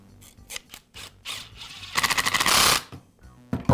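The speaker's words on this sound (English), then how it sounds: "I'll secure it with the screws." Screws being driven with a power driver to secure the field in a DeWALT drill housing during a repair, short whirring bursts and a longer buzzing run, close and quiet, with no voices.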